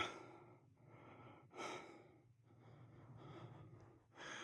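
Heavy, labored breathing from a hiker climbing sand dunes at around 8,000 feet in winter, close to the mic, with repeated gasping inhales and exhales in an uneven rhythm, no talk.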